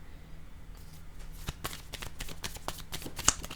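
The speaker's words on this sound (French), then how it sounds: "Je vais déposer une carte sur la féminine." Tarot cards handled during a reading: several crisp slaps and light shuffling ticks as a card is laid down on a table, close and fairly quiet, with no voice.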